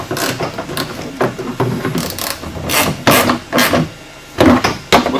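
A hand ratchet tightens the clutch cover bolts on a Polaris RZR during a Quadboss clutch kit install, with bursts of rapid clicking pawl strokes, close and loud, separated by brief pauses.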